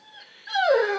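A dog gives a single close, rising whine that bends downward into a short whimper, alone and fairly loud.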